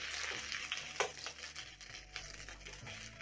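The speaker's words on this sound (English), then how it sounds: "Saute the onions for around 30 seconds just to soften up the onions." A sliced medium onion sautéing in cooking oil over medium-low heat for a noodles and smokies stir fry, a soft steady sizzle with occasional light stirring scrapes.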